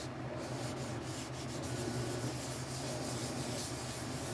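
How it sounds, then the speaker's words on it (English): Sandpaper rubbing over the first clear coat on a burnt orange Telecaster guitar body, a continuous close, soft hiss of abrasive strokes with gentle rhythmic swells, quiet and without talk. "Yeah, you can sand in circles."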